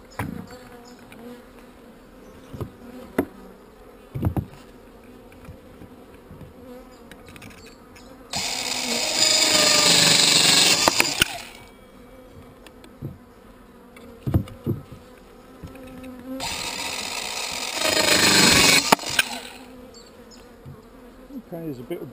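Honey bees buzzing around an open hive, a low steady hum with occasional clicks and two louder surges of close, dense buzzing.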